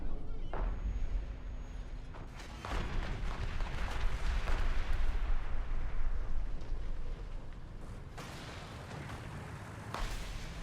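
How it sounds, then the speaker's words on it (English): Artillery strike in a video game, heavy booming explosions and rumbling blasts with sharp bangs at intervals over a continuous loud background roar. "That was a very effective artillery strike right there."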